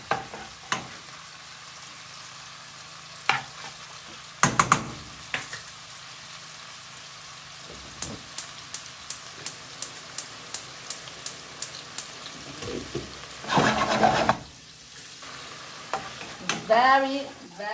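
Pasta sauce with sausage cooking in a pan, a low steady sizzle with sharp clicking stirs and utensil taps scattered through it, and a burst of louder scraping near the end, no talking.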